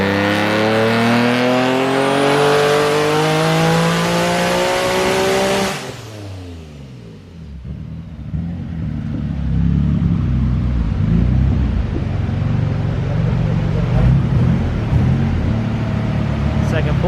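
Twin-turbo Nissan 370Z on a dyno with blown turbos, winding up loud and rising to a high-revving scream, then cutting off sharply before a heavy, rumbling idle and roar continue up close, with voices talking over it.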